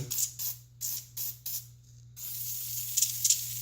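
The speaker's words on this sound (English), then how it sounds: "you're going to want to take and just spray down the whole chain." An aerosol can of penetrating oil hisses in five short quick bursts onto a chain, then releases one longer continuous spray, close and fairly quiet.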